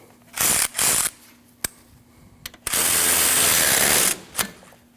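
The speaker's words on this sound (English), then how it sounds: "Now you tighten this bolt." A hand ratchet tightens a bolt on the alternator bracket of a 2003-2008 Subaru Forester 2.5L H4, in several rapid clicking bursts close up, with one long continuous run of clicks.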